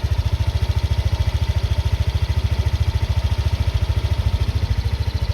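A Yamaha Nmax 125 scooter's engine idles close up, a steady, fast, even low-pitched thrumming pulse that holds constant throughout with no revving.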